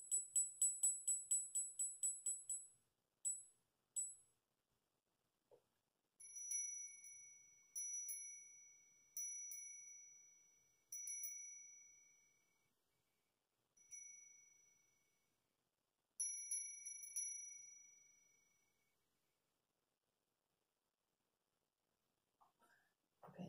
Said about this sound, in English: I've already rung the bells.